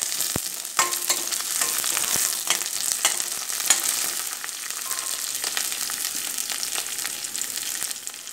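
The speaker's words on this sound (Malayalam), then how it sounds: "ഇത് ആദ്യം തന്നെ നമുക്കൊന്ന് വഴറ്റിയെടുക്കാം." Ginger, green chili, garlic and curry leaves sautéing in hot oil, a steady close sizzle broken by sharp crackles and spatula scrapes as they are stirred.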